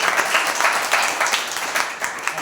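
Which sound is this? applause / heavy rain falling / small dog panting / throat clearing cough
applause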